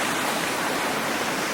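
Steady broadband rush of a river pouring over a small series of waterfalls, continuous and fairly close, with no voices.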